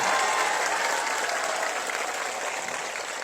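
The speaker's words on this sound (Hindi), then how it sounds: "हर हाथ से ताली, जोरदार ताली बजा के अपना अपना स्वागत करें सब लोग" Audience applause at a political rally in Bihar, a dense steady burst of clapping from a crowd that carries on without a break, loud and near.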